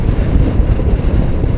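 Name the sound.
cold wind blowing into microphone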